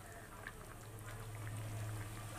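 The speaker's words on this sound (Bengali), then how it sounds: "বেশ ভালো করে ফুটুক" Goat fat curry with soybeans bubbling in a pot, a steady soft simmer with faint pops and low rumble throughout, close and moderately quiet, with no voices.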